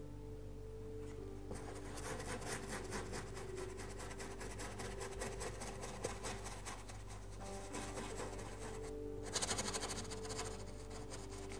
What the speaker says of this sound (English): Don't be afraid to scrub that little bit of yellow into here.